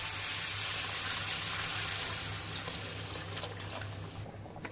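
Tamarind juice is poured into a pan of fish curry seasoned with salt, chili and turmeric, giving a steady, close hissing pour over a low hum that thins out toward the end.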